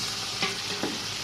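Onion with ginger and garlic paste frying for an Arabic-style chicken biryani, a steady soft hiss with a couple of brief stirring scrapes, close and alone.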